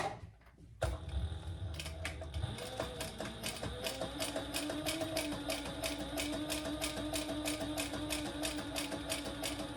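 A sewing machine stitches a leather waist pack, a rapid, even mechanical chatter running steadily and close after a brief pause and a few clicks at the start.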